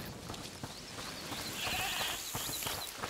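Goat bleating inside a house in A Plague Tale Requiem, a few soft, high calls heard at a distance under a steady ambient game soundscape.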